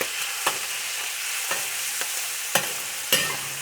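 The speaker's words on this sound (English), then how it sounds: "we're gonna cook until the meat turns white" Minced pork for Beijing fried sauce noodles sizzles steadily in a hot wok, punctuated by about half a dozen sharp metallic scrapes of a spatula stirring at irregular intervals, close up and without talk.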